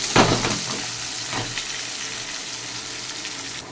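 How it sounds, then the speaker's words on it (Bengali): Cut medium-sized potato pieces with a little salt frying in hot oil in a pan, a steady sizzling hiss with a brief louder stir or clatter at the start, close and continuous. "আলুটাকে ভালো করে ভাজতে দেবো।"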